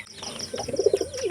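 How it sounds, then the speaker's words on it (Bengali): Teddy pigeons coo close by in a short run of soft, throaty pulses, joined by a few faint chirps. "তো এই পেয়ারে অনেক ভালো জালদার কবুতর, বুঝছেন, অনেক পুরাতন লাইনের কবুতর এগুলা।"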